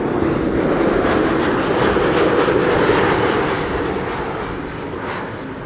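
KLM Boeing 737-800 jet arriving from Geneva, a loud, close engine roar that holds strong, then slowly eases as it passes, with nobody talking.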